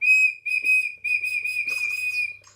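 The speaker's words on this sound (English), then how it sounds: "So when you whistle into it, it replies back to you." Someone whistles into a twitchy bird toy, producing high, sustained, bird-like whistled tones in several bursts separated by brief pauses. The tones are bright and fairly loud, with no speech.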